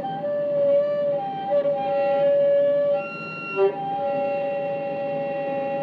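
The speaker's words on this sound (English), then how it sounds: "There we go, there's the multiphonic sound." A sustained wind-instrument tone with several stacked pitches sounding at once, wavering slightly and bending, played alone with no talking.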